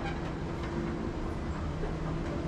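A Delhi Metro train produces a steady, close rumble with a constant low tonal hum, running evenly throughout with no speech.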